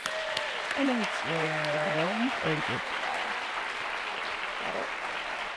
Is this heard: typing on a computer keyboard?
no